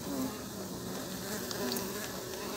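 Stingless Urussu nordestina bees buzz steadily around a hive box holding a recently split colony, a close, continuous droning hum with no talk.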